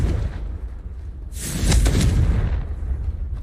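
A Confringo blasting spell explodes in a video game with a sudden, loud burst, its rumbling boom and crackle swelling and then slowly tailing off over a low ambient bed.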